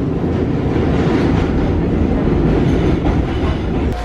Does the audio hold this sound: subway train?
yes